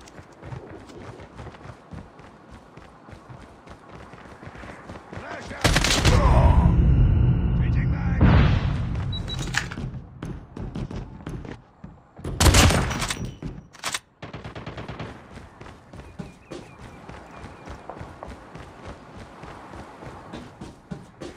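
Gunfire at a firing range in the video game Call of Duty Mobile: loud, dense bursts of rapid shots in two main clusters, with quieter scattered shots and game sounds between them.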